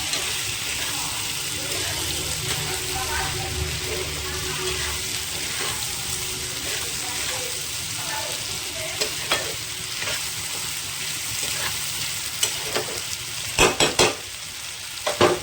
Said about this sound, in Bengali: ধনেপাতাটা দিয়ে ভালো করে নাড়াচাড়া করব।